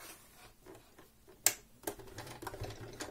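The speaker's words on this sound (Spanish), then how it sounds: "Y aquí con una puntada recta empezamos a coser, rematamos y continuamos." A sewing machine stitches a fabric face mask with a straight stitch, a faint, quick patter of needle strokes broken by a few sharp clicks, close but quiet.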